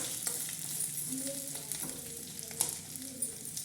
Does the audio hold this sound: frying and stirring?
yes